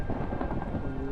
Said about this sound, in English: Wow, this is another thunderstorm.